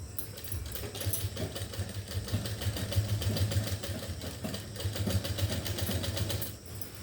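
A sewing machine runs steadily while stitching the side seam of a shirt being fitted, a continuous close, moderately loud mechanical whir with a fast even rhythm that eases off at the end.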